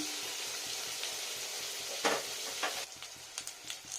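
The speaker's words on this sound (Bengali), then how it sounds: "একটু ব্রাউন দাগ আসবে এরকম করে ভেজে নেবো আলুটাকে আর বেগুনটাকে" Potato and eggplant pieces frying in a pan give a steady close sizzle, and a few stirring scrapes and clacks cut through toward the end.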